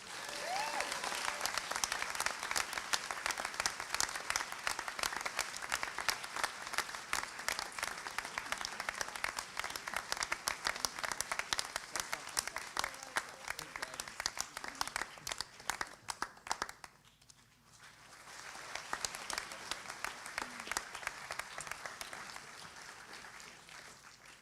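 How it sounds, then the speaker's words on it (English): Sustained audience applause at a Class of 2020 graduation ceremony, dense clapping from a crowd that dips briefly near the end before swelling again. "Can you give a round of applause to"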